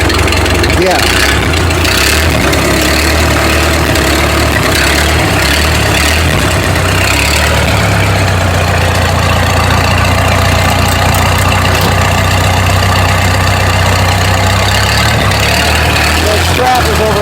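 A Ford Model T engine catches and settles into a steady idle, its low rumble running loud and close throughout with some mechanical clatter on top, and no one talking over it.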